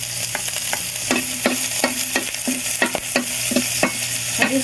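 Onion fries in oil while a utensil repeatedly scrapes and stirs the pan, sharp regular clacks over a steady close sizzle, with no talking.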